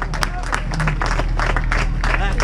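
Spectators and volunteers applaud at the finish line of the Alençon-Medavy road race, a dense wash of clapping and crowd noise with a voice talking over it throughout.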